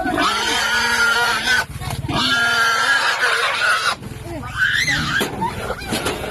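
A pig squeals loudly and continuously in shrill bursts, close by, with people talking and shouting around it.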